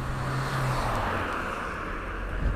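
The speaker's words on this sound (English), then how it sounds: "Oh look, a car." A single car passes at moderate distance, a steady broad road rumble that holds for a couple of seconds and fades, with a low hum at the start and a faint thump near the end.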